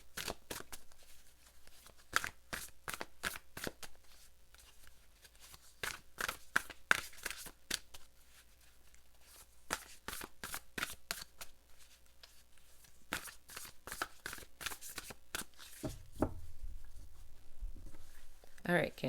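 Large oversized tarot or oracle cards being shuffled in a series of crisp riffling and slapping bursts, with a brief pause midway and a low rustle at the end.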